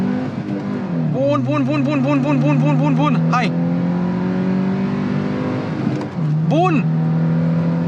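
A 3.5-litre naturally aspirated Suzuki Jimny engine revs hard through the gears in a 0-100 km/h run, rising pitch sweeps broken by shifts, with a second pull near the end, loud and close under excited talk.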